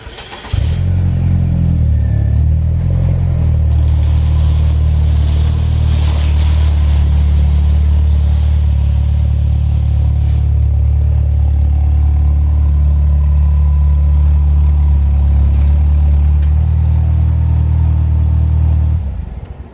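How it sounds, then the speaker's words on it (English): A Saab 9-3 Arc's engine runs loud and close as the car backs out of a garage. The low, steady drone holds for about nineteen seconds with a slight rise partway through, then cuts off abruptly at the end. "So I pulled the car out of the garage"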